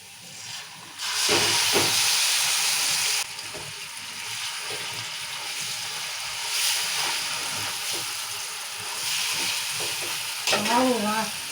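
Chicken pieces hit a hot pan of onions and spices for a home-style biryani, setting off a loud, steady sizzle and steamy hiss that keeps going as the meat is stirred, with a few clinks of the spoon near the end.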